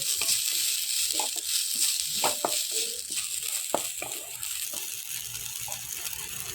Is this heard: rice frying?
yes